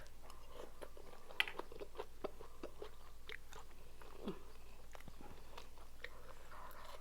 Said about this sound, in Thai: กินกรุบกรุบแซ่บ